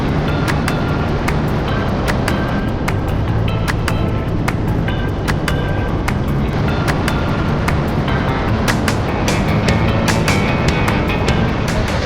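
A 1977 AMC Pacer drives slowly on surface streets, its steady engine and road roar loud and constant throughout, with faint clicks and rattles over the top and no voices.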